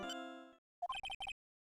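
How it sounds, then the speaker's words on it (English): Phone ringtone in the Ace Attorney video game: a sustained bright chime that fades out, then a quick run of five crisp, tinkling electronic notes in a short melodic burst, alone and clear. "Gato, I think your phone's going off."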